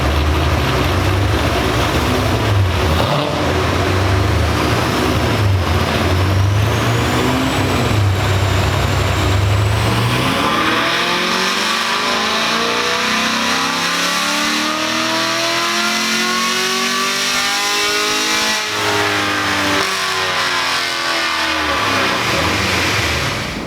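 A tuned car fitted with headers and an x-pipe, running on 93 octane pump gas, revs hard on a dyno, its loud engine note climbing steadily through the gears, continuous and close.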